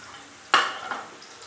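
Onions being fried to light golden brown in a pan for a dhaba-style urad dal mash, with one sudden stirring scrape and sizzle, then a softer second scrape fading into quiet hiss.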